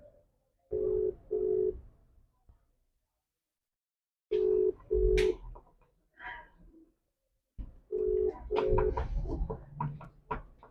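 Outgoing WhatsApp call ringback on a phone, paired short tones repeating in regular bursts with pauses between them, fairly faint, with background noise and clatter between the rings.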